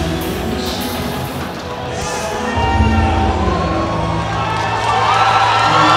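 A fight crowd at a Pro MMA Championship event cheers loudly and steadily for fighter João Samurai as he enters, a dense continuous roar of shouting fans with no clear pauses.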